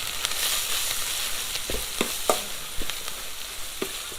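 Green curry paste stir-fries in oil for chicken green curry, a continuous soft sizzle broken by several sharp spatula scrapes and taps against the pan, up close with no talking.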